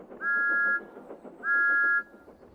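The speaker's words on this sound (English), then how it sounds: "Thomas's whistle sounds like this in the countryside." Two clean whistle blasts from Thomas, a cartoon steam engine out in open countryside, each about half a second long with a short gap between them, clear and dry over a faint background.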